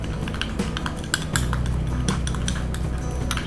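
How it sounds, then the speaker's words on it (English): A spoon clinks and scrapes around a bowl as raw milk is mixed into a homemade face pack, with steady close tapping and clinking throughout and a constant low hum underneath. "And the next 2 tablespoons of raw milk and mix it properly"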